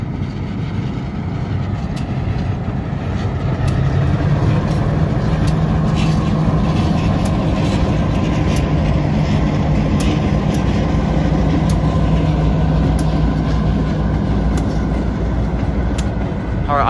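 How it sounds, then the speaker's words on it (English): A Buffalo and Pittsburgh freight train passes loudly near Lake Avenue in Blasdell, New York, its rumble and rhythmic wheel clatter sustained throughout with sharp repeated clicks over the rail joints. "we just got a Buffalo and Pittsburgh train here"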